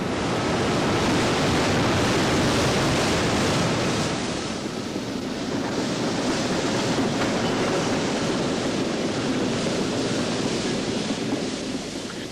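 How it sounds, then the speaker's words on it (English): Steel slabs pass through descaling rolls in a rolling mill, making a loud, continuous roaring hiss. The dense broadband rush holds steady for the whole stretch, with only a slight dip partway through. No one speaks. "The slabs are passed, first of all, through 2 sets of descaling rolls, which remove most of the surface scale."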